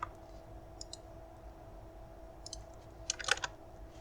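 A computer mouse gives a few soft, close clicks, with a quick cluster near the end, over a quiet steady hum.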